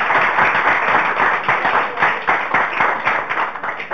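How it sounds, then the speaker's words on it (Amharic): An audience at a televised student quiz competition claps for a school, giving continuous, loud, dense applause with no break. "ለፊውቸር ታለንት ትምህርት ቤትም አንድ ጊዜ ጭብጨባችሁ።"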